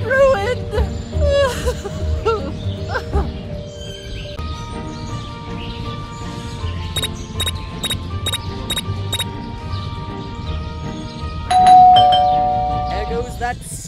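A doorbell chimes repeatedly in Scary Teacher 3D, a cluster of bright rapid rings midway followed by a louder sustained tone, heard over game music and a voice talking.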